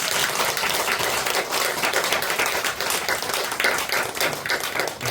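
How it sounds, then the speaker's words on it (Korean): An audience at a church sermon applauds, filling the clip with dense, continuous clapping close by and fairly loud, without speech. "박수 한번 쳐주세요."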